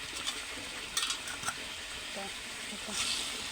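Soft sizzling and stirring from a pan as fried fish pieces go into a bubbling curry, with clinks of a utensil and faint talk in the background.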